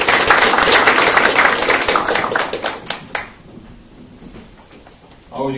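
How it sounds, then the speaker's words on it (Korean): Audience at a startup networking forum bursts into loud, dense applause that fades out over about three seconds, followed by quieter room sound and a brief voice at the end. "박수 한번 부탁드릴게요"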